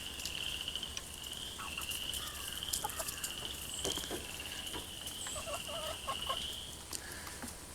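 Chickens and a rooster cluck and chatter close by in short, scattered bursts over a steady high-pitched hiss.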